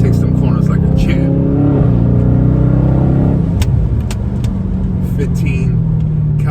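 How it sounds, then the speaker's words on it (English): A 2020 Dodge Charger Scat Pack Widebody being driven, its engine a loud low rumble that swells and shifts pitch as it revs, with someone talking over it throughout. "This car handles well too on corners."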